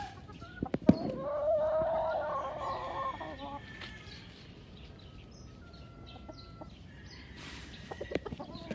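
A blue hen chicken on a Philippine farm clucks, with one sharp note near the start and softer calls scattered through the clip over a busy background of farm birds.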